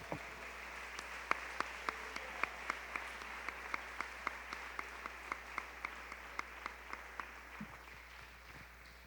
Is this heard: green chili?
no